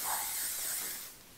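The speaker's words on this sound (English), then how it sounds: "I'm just gonna spray that." Sexy Hair Spray and Play Harder hairspray misted onto curled hair in one sustained, close aerosol hiss that fades slightly toward the end, with no talking.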